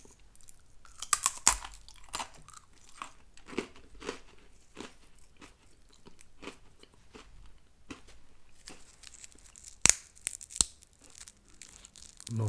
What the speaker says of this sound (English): Multiple crunch or crack.